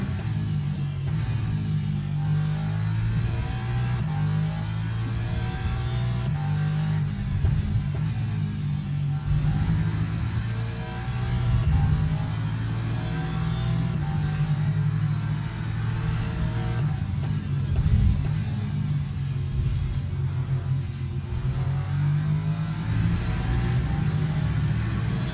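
Lamborghini race car engine in the racing game Le Mans Ultimate, a steady low rumbling drone that holds loud and constant throughout, with slight swells as the revs shift.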